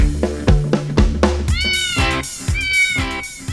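A quick series of cat meows, some short and some drawn out, rising and falling over a rhythmic musical beat.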